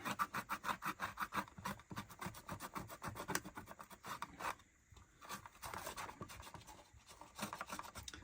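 Steady rubbing and scrubbing on the casing of a vintage 1970s Stylophone, cleaning off glue residue and dust, close and fairly quiet, with rhythmic strokes that pause briefly midway.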